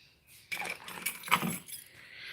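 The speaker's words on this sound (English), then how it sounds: "I got to carry keys." A bunch of keys jangles close by in a short metallic rattle with a brighter clinking peak in the middle, heard alone.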